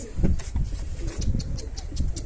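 Pigeons cooing close by in soft, repeated throaty calls, with faint chirps of wild birds and light background noise, near a pigeon coop.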